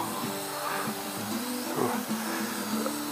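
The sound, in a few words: Hubsan H502E quadcopter drone flying at maximum speed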